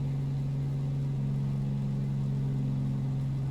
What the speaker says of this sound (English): Now I am idling my throttle, so we should burn some speed.